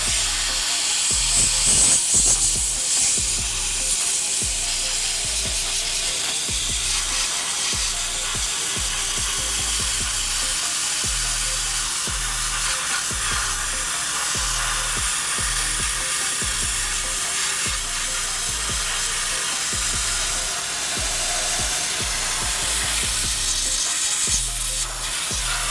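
Dry ice blasting strips grease from car parts with a loud, continuous hissing roar and a rhythmic low pulsing from the blaster running steadily up close throughout.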